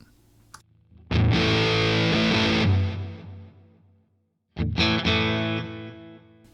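Electric guitar played through a Big Muff fuzz effect on a Boss Katana amp, two loud sustained distorted chords separated by a brief silence, heard alone with no talking.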